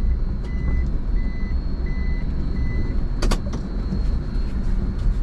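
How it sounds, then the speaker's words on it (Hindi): A car reverses and turns back in a narrow village lane near Rawalpindi, its windows open, with four evenly spaced reversing beeps over a steady low engine rumble and a brief clatter afterward. "मैं गाड़ी वापस मोड़ता हूँ"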